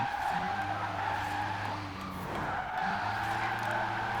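Rimac C Two electric hypercar drifting in Forza Horizon 4, with a sustained engine tone and steady tire squeal that dips briefly mid-slide and then resumes, loud and close with no talk.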